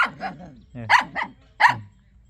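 A dog barks several times in quick succession, loud and close, with short high yelping barks spaced unevenly over a couple of seconds.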